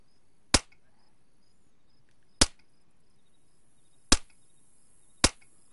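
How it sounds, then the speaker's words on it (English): A silenced pistol fires four sharp, clipped shots at zombies in the survival game DayZ. The shots come at uneven intervals against a quiet, faintly hissing background. "He's taking them out with a silenced pistol."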